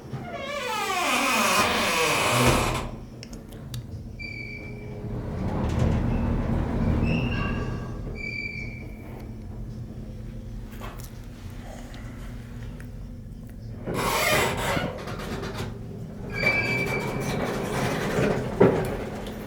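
Northern traction elevator at a resort descending, with rumbling grinding and rasping mechanical noise, clunks and a loud burst of noise near the start and again later, heard from inside the car.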